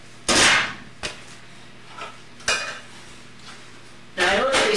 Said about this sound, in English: I gotta take out all the pans before I can get to the one that I want.